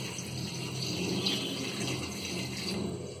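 Water pours steadily into a pan holding jackfruit pieces for payasam, a continuous close splashing gush with no talk.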